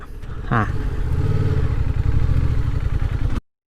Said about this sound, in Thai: ถ้าเกิดเกียร์มันสูงเกินไปแล้วมันไม่สัมพันธ์กันเนี่ย มันก็จะดับแบบนี้นะฮะ